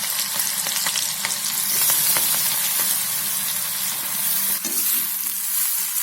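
Ground baby jackfruit sizzles and fries steadily in a hot pan while a utensil stirs and scrapes through it, a close, continuous crackling hiss with no talking.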